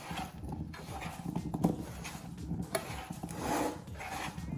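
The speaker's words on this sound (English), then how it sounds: "Give that a good Toss." Gnocchi tossed by hand in a bowl gives soft, irregular rubbing and light clattering shuffles, close and fairly quiet, with no talking.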